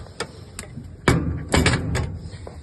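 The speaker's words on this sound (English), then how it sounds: "Shut the door of the stove" A metal door on a wood-burning hot tub stove swings shut with a firm clunk and a short rattle of the latch, followed by a few light knocks, close by and loud.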